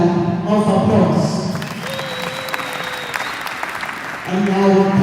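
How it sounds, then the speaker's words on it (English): Audience applause at the opening ceremony of a Zone 6 volleyball club championship, a loud sustained clapping that fades into a quieter gap, then swells back up strongly near the end. "Let's give him another round of applause."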